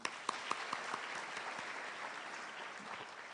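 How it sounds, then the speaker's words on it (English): Applause fills a hall at a university graduation ceremony, a large crowd clapping steadily and faintly in the distance, with a few sharper individual claps near the start. "Shall we applaud again?"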